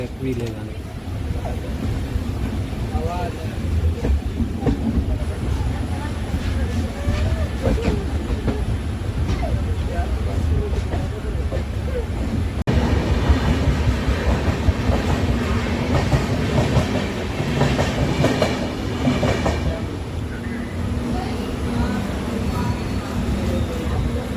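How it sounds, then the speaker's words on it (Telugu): A passenger train on the Koraput–Araku–Visakhapatnam line in the Odisha–Andhra border region rumbles steadily into Simhachalam station, with continuous wheel and carriage noise and clickety-clack throughout, and voices talking over it. "ట్రైన్ ఇప్పుడు సింహాచలం స్టేషన్కు చేరుకుంది"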